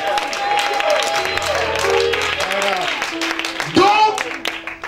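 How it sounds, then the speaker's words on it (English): A church congregation claps along during a lively service, a dense spread of hand claps mixed with a preacher's voice and some tonal sounds from music or singing. "Come on, clap your hands and give him glory"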